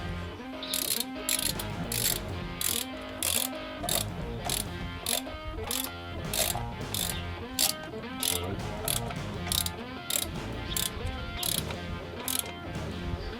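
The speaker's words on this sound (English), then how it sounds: "I think it's time to start bolting it down in the correct order." Ratchet tightening cylinder head bolts on a Volvo 850 during a head gasket replacement, steady rapid clicking in repeated strokes, close and clear, with almost no talking.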